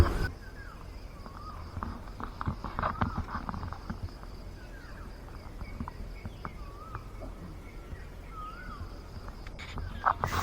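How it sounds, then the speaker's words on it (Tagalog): Early-morning birds sing at a farm resort campsite in Norzagaray, Bulacan, with scattered chirps and short whistled phrases over a steady bed of insects, fairly faint and somewhat distant. "Ang sarap lang kasi makinig ng mga ibon eh."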